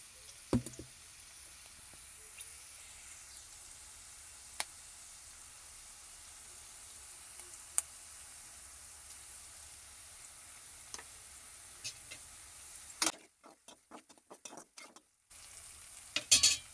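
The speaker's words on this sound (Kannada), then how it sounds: "ಈಗ ಈರುಳ್ಳಿ ಚೆನ್ನಾಗಿ ಫ್ರೈ ಆಗಲಿ" Onions fry in a pan while curd rice is prepared, a faint steady sizzle with scattered spoon knocks and taps, briefly dropping out before a louder clatter near the end.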